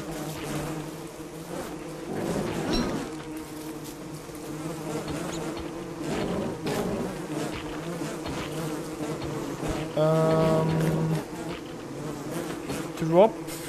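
Bees swarm around beehives in the survival video game Don't Starve, a constant dense buzzing drone that runs throughout with swelling passes and short tonal game sounds laid over it.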